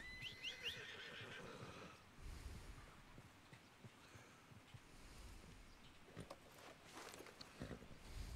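A horse whinnies in Red Dead Redemption 2, a clear nickering call at the start, followed by softer hoof and movement noises against a quiet outdoor backdrop.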